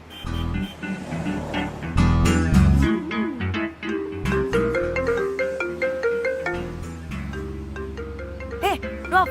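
A mobile phone in a hotel room plays a bright melodic ringtone over and over, the tune loud and near, with brief gaps between repeats.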